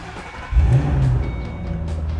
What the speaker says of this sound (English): how about we start it for you so you can hear what it sounds like.